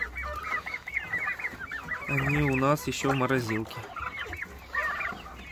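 Farm chickens cluck and squawk repeatedly in loud, close bursts, with turkeys and chicks kept alongside; someone talks over the calls.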